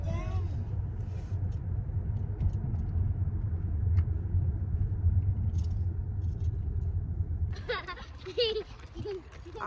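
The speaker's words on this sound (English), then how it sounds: "We just jumping in the car, riding around the corner" Car interior rumble as the vehicle rolls along a neighborhood street, a steady low road and engine drone that dominates, thinning near the end as other sounds and a voice come in.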